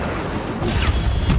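An Incendio fire spell cast in Hogwarts Legacy gives a soft whooshing burst with a low rumble that swells midway, moderately loud and close, with a brief crackle near the end.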